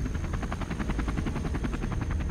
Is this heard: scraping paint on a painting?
no